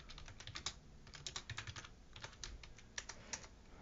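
Rapid, uneven clicking of keys being typed on a computer keyboard, close and fairly quiet, coming in short bursts with brief pauses and no talk over it.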